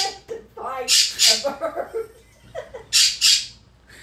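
A pet bird squawks loudly in several harsh bursts, close by, with a person talking in between the calls.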